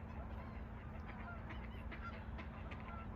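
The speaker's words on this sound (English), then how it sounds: "Trumpeter swans." Trumpeter swans call at a migratory bird sanctuary in Fairbanks, Alaska: several faint, distant honking calls scattered over a steady low outdoor rumble, with no talking.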